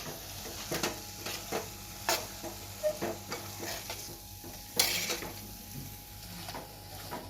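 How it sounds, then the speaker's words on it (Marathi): Scraping and stirring of kidney beans and potato pieces in a pan of frying spices, with a soft sizzle underneath and irregular clinks of a spoon against metal, close up with no talking. "ही जी फोड केलेली बटाटी आहेत ती सुद्धा आपण घालूया मिक्स करून घ्यायचं आहे"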